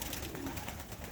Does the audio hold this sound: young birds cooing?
yes